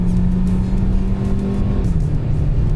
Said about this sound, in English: Sport mode, the gears actually hold on for a longer time, and let's floor it.